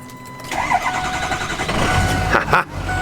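A Ford Excursion Limited with a Power Stroke diesel engine cranks briefly and catches, settling into a steady rumbling idle close to the microphone.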